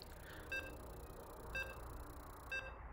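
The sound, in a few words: loading beeps in the StarCraft II video game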